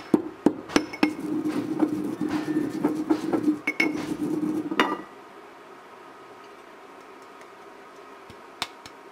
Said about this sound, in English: Now I am adding this mixture in a traditional grinder. Make fine powder of it by crushing.